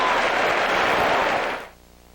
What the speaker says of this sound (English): The crowd reaction to the kicking game for the Seahawks